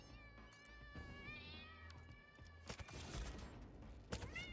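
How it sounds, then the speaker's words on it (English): Many cats meowing at once in a video game, overlapping calls piling up into a loud, dense chorus along with clattering game sounds. "Oh, that's so many cats."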